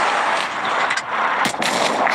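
Heavy tank cannon blasts in World of Tanks Blitz boom out in a loud, sustained roar with crackling bursts, layered over dense rumbling noise and no voices.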